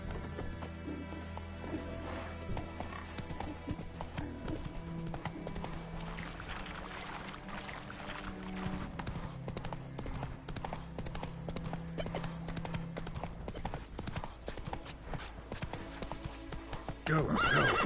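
Galloping horse in The Witcher video game, with steady clip-clop hoofbeats running throughout and loud whinnies near the end, set over a game soundtrack.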